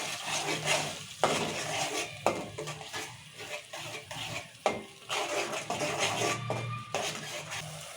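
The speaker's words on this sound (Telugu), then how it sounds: "ఉల్లిగడ్డ పేస్ట్ మిరపకాయలు పేస్ట్ రెండు కలిపి చేసిన పేస్ట్ వేసుకున్నాం ఇది నూనెలో మంచిగా తీసుకోవాలి" Onion and chili paste frying in oil in a pan for a tomato curry, with steady sizzling and repeated scraping, clattering stirs of a utensil against the pan, close and continuous with no talking.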